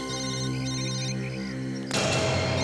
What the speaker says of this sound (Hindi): सर फोन फिर से बज रहा है सर।